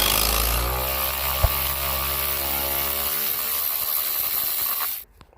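A power tool, likely an impact driver or ratchet, loosening dashboard bolts in a 2005 Nissan Altima, giving a loud, continuous close whirring grind that winds down and stops near the end.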